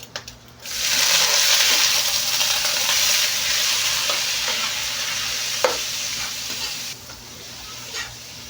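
Cabbage tossed in hot oil with garlic and onion in a wok, a steady loud sizzle with stirring scrapes running almost the whole time, then easing slightly near the end.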